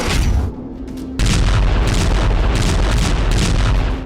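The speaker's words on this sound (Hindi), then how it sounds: "साजिश कुछ ऐसे ही बड़े धमाके की थी" A big explosion sound effect hits as a deep booming blast with a heavy low rumble, loud and close, and the roar carries on after the initial impact.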